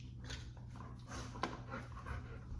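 A dog pants steadily while playing indoors, quick breathy huffs close by with a brief sharp sound midway and no talking.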